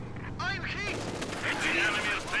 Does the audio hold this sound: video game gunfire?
yes